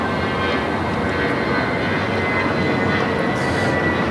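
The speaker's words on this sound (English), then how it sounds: "We have a Queen taxiing for takeoff" A Nippon Cargo Airlines Boeing 747 freighter taxis for takeoff at LAX, its jet engines producing a steady, loud, broadband roar that holds evenly throughout with no talk over it.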